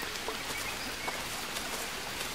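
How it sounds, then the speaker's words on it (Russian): Rain falls steadily in the survival video game Green Hell, a dense, even hiss of drops with no pauses and no voices over it. "Дождь идет и идет, не перестает."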